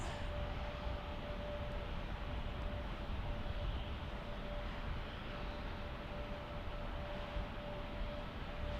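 An inbound airliner from Houston Intercontinental arrives at Salt Lake City with a steady, broad jet roar that stays loud and even throughout and has a faint constant tone running under it.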